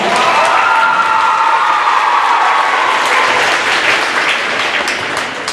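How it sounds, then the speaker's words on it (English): Loud, sustained applause from the audience at a 2015 spelling bee, a dense wash of many hands clapping that holds steady for several seconds before easing slightly at the end. "Let's give them all a nice round of applause."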